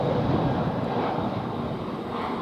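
An EasyJet Airbus A320 on a flight from Iceland to London Luton passes overhead near Luton Airport Parkway station, a steady broadband jet roar holding level for the whole stretch, with light wind buffeting the microphone.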